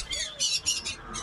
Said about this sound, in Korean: 말씀을 아주 잘하는 앵무새